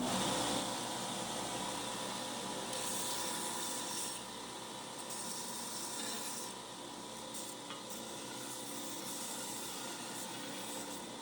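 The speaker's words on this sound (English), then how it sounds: "get this sanded a little bit so we can see what's going on here" Sanding a freshly forged Damascus steel roughing gouge with coarse 36-grit abrasive, a continuous loud abrasive rush that eases slightly partway through, with no voices.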